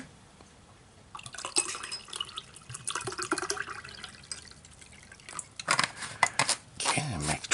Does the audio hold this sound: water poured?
yes